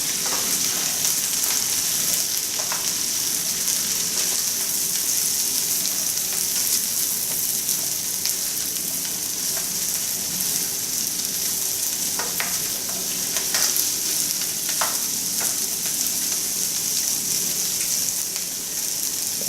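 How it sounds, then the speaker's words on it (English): String beans stir-fry in a pan with browned onion and garlic, giving a continuous bright sizzle with scattered small pops and occasional faint clinks of stirring, steady and close. "And just kind of stir fry that in there."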